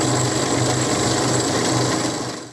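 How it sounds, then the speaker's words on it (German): Drill boring pin holes through a handmade knife handle, a steady continuous whir with a low buzzing hum, loud and close throughout before fading at the end. "Dann bohre ich zuerst das Achterloch, stecke das ein, dann verrutscht mir das Messer hinten nimmer"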